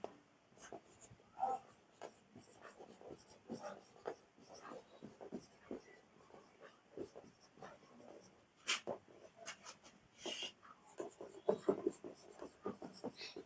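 A teacher writes on a board during an English grammar class, a quiet run of short scratchy strokes and taps in an uneven rhythm, with faint voices in the room.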